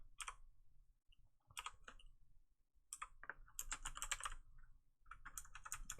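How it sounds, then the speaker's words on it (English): Typing on a computer keyboard, quiet bursts of rapid key clicks separated by short pauses, close by with no talking. "I'm using my keyboard off to the side again."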